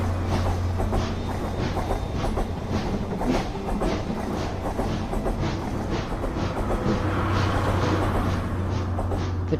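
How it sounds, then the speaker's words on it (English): A steam train chugging along with a steady rhythmic puffing beat and a low rumble, continuous and fairly close. "The train puffs along."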